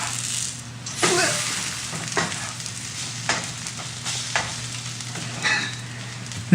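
Pancake frying in a pan, a steady soft sizzle with a few scraping and rattling knocks of a utensil against the pan, close and fairly quiet.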